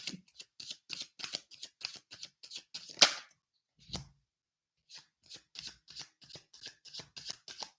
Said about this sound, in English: there must be another card because we're still shuffling